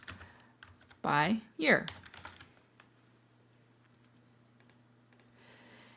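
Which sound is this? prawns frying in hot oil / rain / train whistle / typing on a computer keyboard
typing on a computer keyboard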